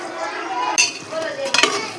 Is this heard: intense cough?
no